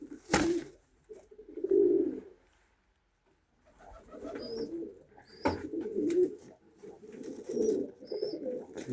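Pigeons cooing in a loft on a freezing winter morning at minus fifteen, repeated soft throaty coos in bursts with short pauses and faint clicks and flutters nearby.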